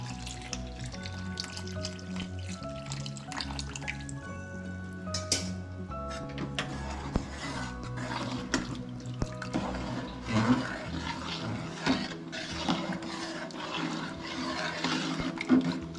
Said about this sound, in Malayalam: ഇനി ഇതിലേക്ക് 3-ാം പാല് ചേർത്ത് കൊടുക്കാം.